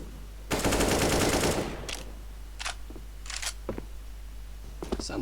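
Counter-Strike match gunfire: a dense burst of rapid automatic shots, like a spray, rattles for about a second, followed by scattered single shots and short bursts at varying distances.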